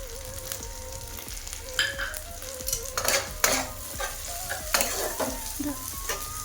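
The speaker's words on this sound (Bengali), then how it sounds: "একটু নাড়াচাড়া করে নিয়েছি, রসুনের গন্ধটা কেটে গেছে।" Garlic with coriander, cumin and chilli powder frying in a pan for prawn curry, a steady soft sizzle broken by irregular scraping stirs of a utensil against the pan, close by with no talking.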